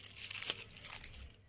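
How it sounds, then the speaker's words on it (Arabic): Nylon plastic bag rustling and crinkling on a serving tray while liver in bran is prepared in a kitchen; a short run of dry, crackly crinkles with a sharper burst midway, close and fairly quiet, no talking. "طبعا احنا جايبين ايه صينيه كده او سرفيز عندنا، حاطين فيه كيس نايلون"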